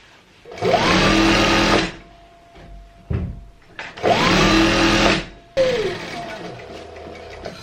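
An electric sewing machine stitches the leg piece of a Patiala salwar, running in three loud, close bursts of rapid whirring separated by short pauses and light handling clatter.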